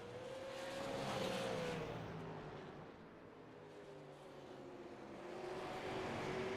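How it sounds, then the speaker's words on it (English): Race cars lap a one-third-mile oval speedway in a steady engine drone that swells and fades as the cars circle at a moderate distance, with no voices over it. "three front runners here as they work their way around this 1/3 of a mile speedway"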